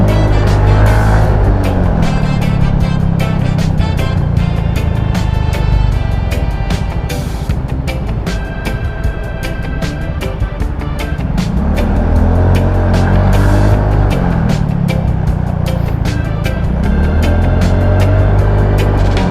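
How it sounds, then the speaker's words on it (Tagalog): Slow traffic moves along a road in a continuous loud rumble of engines, swelling and easing as vehicles pass close by, with a dense broadband wash throughout. "Bagal naman mga sasakyan."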